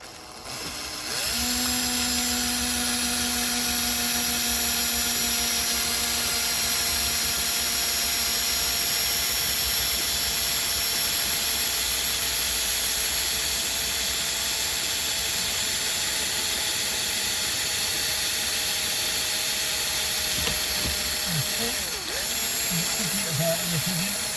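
A power drill bores a hole for a Remis door blind pivot, giving a loud, continuous tonal whine that holds steady for about twenty seconds before faltering near the end.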